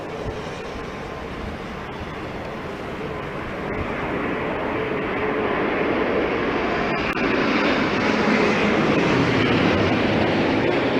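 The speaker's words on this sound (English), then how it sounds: "Looks like an American Dreamliner" An American Airlines Dreamliner airliner roars at an airport, a broad continuous jet-engine rumble that swells louder over several seconds, with no voices.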